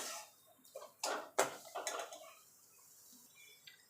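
Milk is stirred in a pan over a low-to-medium stove flame: a few close, soft scraping and clinking strokes of a utensil against the pan, followed by quieter stillness.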